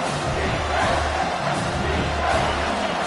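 A stadium crowd roars at a college football game between Ohio State and South Carolina on a third down, a dense, steady wall of cheering and shouting that fills the whole stretch with no break.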